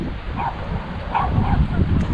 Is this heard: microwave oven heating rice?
no